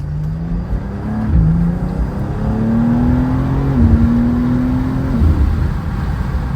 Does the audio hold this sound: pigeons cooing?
no